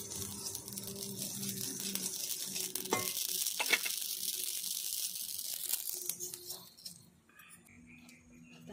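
Mustard seeds crackle and sizzle in a hot pan while homemade garam masala is prepared, a close, busy rustling hiss with a few sharper clicks that thins out near the end.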